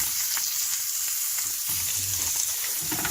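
A saucepan burning on a stovetop fills the short stretch with a continuous crackling sizzle, close and steady, with no voices over it.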